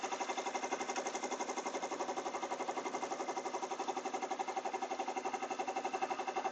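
A home embroidery machine stitches steadily on a baby basket project in the hoop, its fast needle producing an even, rapid mechanical chatter, fairly quiet and alone throughout.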